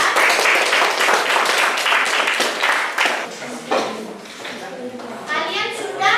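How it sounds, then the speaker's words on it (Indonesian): Classroom applause for a student group, a burst of many hands clapping near and fairly loud for several seconds, tapering off with children's voices and chatter mixed in. "Kita beri aplaus untuk kelompok 4"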